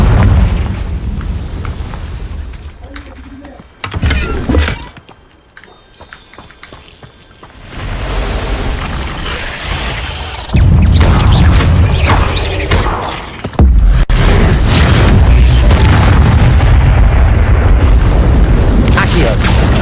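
Confringo blasting curses in the Hogwarts Legacy video game set off loud, booming explosions, with heavy bursts and crackling debris among rumbling battle noise. A voice speaks over the blasts.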